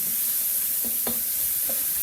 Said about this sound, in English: the bacon just started to sizzle